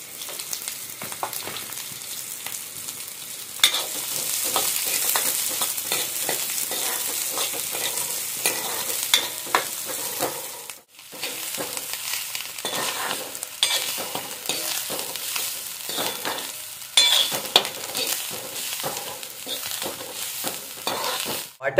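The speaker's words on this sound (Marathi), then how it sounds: "आता हे पहिला आधी भाजून घेऊया." Spices dry-roast in a pan with a dry crackling hiss and frequent scraping strokes of a spoon stirring them, steady and close, with no one talking.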